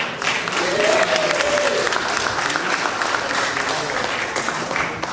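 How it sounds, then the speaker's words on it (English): Audience applause at a 2011 San Francisco Fillmore mayoral debate, a steady wash of clapping from the crowd that holds at an even level throughout, with some murmuring voices mixed in. "Let's give a round of applause for this"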